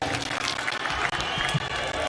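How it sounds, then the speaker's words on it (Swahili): A crowd at the 2025 Labour Day celebrations at Uhuru Gardens applauds the president with steady, dense clapping that carries on for the whole moment. "Tumpongeze rais kwa makofi tafadhali"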